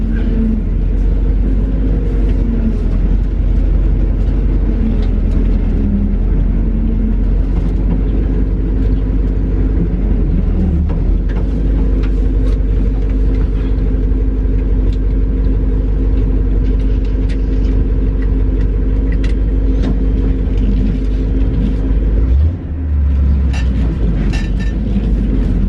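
A 1966 International Loadstar 1600 truck drives slowly and turns around, its engine giving a loud, steady low rumble that runs throughout, with a brief deeper surge near the end.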